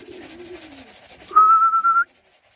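Racing pigeon arriving at a loft after a hard 797 km race from Christchurch, with soft cooing and bird noise first, then a loud, steady whistle-like tone lasting under a second that cuts off abruptly.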